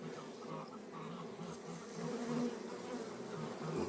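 Honey bees swarm and buzz around open hive frames of brood, a dense, close, continuous drone that swells slightly in the second half.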